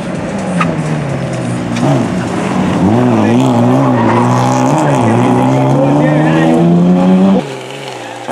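A BMW E30 racing through a slalom course in Debrecen, its engine revving hard and rising in pitch with tires squealing through the turns, loud and close before cutting off abruptly; a commentator talks over it.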